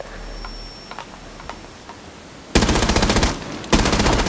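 Video game gunfire in a 4v4 match: quiet background with faint clicks, then two loud bursts of rapid automatic fire up close, the second starting after a brief break.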